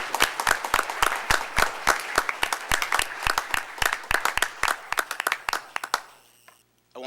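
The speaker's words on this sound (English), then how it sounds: "Give him a round of applause." A small audience at a city commission meeting claps for a major; sparse, distinct individual claps in an uneven rhythm that thin out and stop near the end, followed by a brief quiet.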